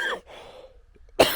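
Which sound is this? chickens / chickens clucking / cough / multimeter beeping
cough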